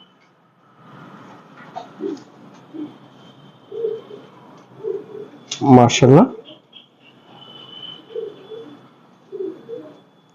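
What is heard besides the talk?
Chinese teddy pigeons cooing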